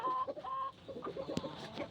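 An Aseel hen clucks repeatedly in short, close, choppy bursts, with soft rustling between the calls.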